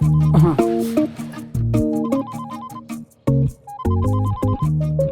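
A phone plays a melodic ringtone, its bright electronic phrase repeating several times, loud and close, with brief pauses between phrases.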